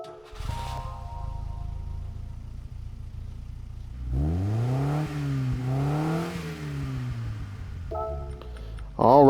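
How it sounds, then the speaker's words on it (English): A 1952 Abarth 1500 Biposto Bertone B.A.T. 1 engine starting in Gran Turismo 7: a low idle, then rising and falling revs with a rough mid-range growl, loud and close. "we'll listen to the startup sound"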